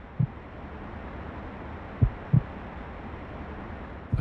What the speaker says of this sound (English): Heartbeats become palpable.